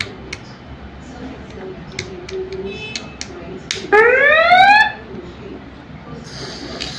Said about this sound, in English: when I tap on this, it will like beep that sound.